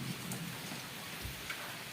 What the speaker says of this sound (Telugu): వర్షం అయితే మామూలుగా పడతలేదండి, చాలా విపరీతంగా పడుతుంది వర్షం.